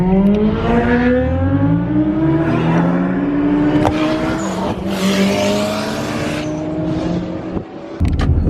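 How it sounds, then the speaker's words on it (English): Several loud race cars rev and accelerate at a street racing meetup outside Melling Station, engine tones rising and overlapping continuously with a brief tire squeal, close and alone without talk. "This is a racing meetup outside Melling Station."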